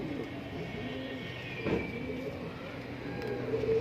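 Pigeons in a loft coo in soft, repeated low throaty calls close by, with a steady background rumble and a few sharper knocks mixed in.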